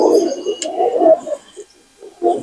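A male pigeon of the Andhra Fulchira line coos close by, a few soft, low, throaty coos broken by short pauses.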